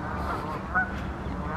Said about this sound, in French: J'ai une oie ici.